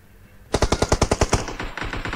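Rapid burst of about ten loud gunshots in a video game, evenly spaced, followed by quicker trailing shots and lingering echo, with no talking.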